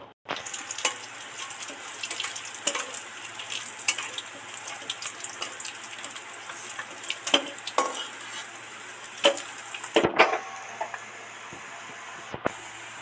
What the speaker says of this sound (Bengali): এইরকম আওয়াজ হলে জানবেন মাছ ভাজা কমপ্লিট হয়ে গেছে